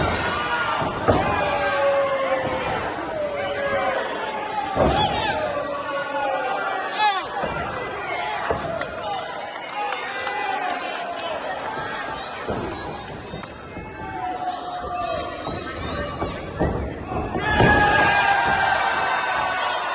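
A live crowd at a wrestling-style event chatters and reacts continuously, loud and dense, with thuds and slams breaking through the rolling babble and occasional swells of noise.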